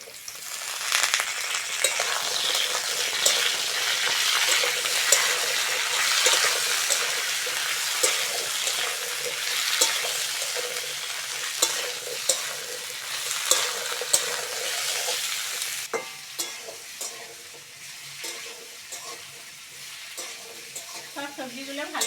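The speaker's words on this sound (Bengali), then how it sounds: "সব সবজিগুলো ভালো করে ভেজে নিয়েছি" Eggplant, potato and vegetable stems fry in a pan with a steady, close sizzle, broken by repeated scraping stirs; the sizzle quiets and thins toward the end as stirring continues.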